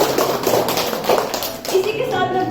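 Audience clapping at a Hindi Divas college event, a dense patter of many hands applauding at moderate distance, steady for a couple of seconds with a voice audible underneath.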